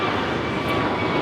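Sun Country airliner at Los Angeles airport, a steady broadband jet roar that stays loud and constant throughout.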